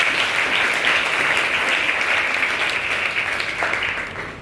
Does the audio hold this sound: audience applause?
yes